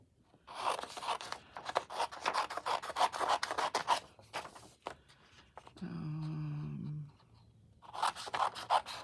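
Scissors cut through a paper journal cover along drawn guidelines, giving a run of close, crisp snipping and rasping strokes, then a pause, a brief humming tone, and more snips at the end.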